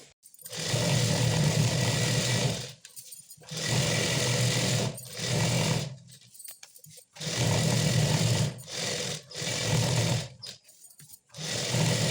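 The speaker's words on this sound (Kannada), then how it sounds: "ಕೆಳಗಡೆನೂ ಕೂಡ ಫೋಲ್ಡ್ ಮಾಡಿ ಸ್ಟಿಚ್ ಮಾಡ್ಕೋಬೇಕು" Sewing machine stitching a folded fabric hem on a garment with lining, running loud in several bursts of steady motor whir with short pauses between runs, no talking.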